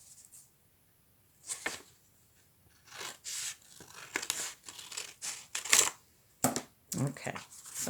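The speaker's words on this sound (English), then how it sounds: "I'm going to fold it in half. And I'm going to cut it." Scissors snip through a folded sheet of paper during a third-grade art project on warm and cool colours, giving several short, crisp cuts and crinkles in separate bursts at close range with quiet gaps between them.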